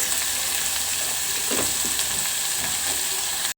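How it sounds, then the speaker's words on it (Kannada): Onions and dry Guntur chillies fry in a pan with a steady, close sizzle and crackle, plus faint stirring scrapes around the middle. "ಈರುಳ್ಳಿನ ಫ್ರೈ ಮಾಡ್ತಾಯಿದ್ದೀನಿ."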